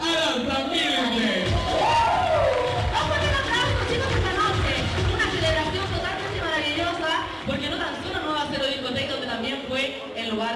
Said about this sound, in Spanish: Fuerte el aplauso a la señorita Aranza Mirenle.